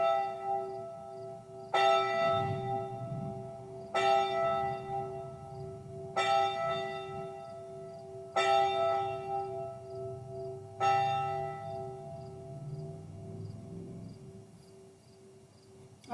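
Church bells ringing before a worship service, six heavy strikes spaced about two seconds apart, each with a long humming resonance that overlaps the next, distant and fairly quiet, with faint insects chirping underneath.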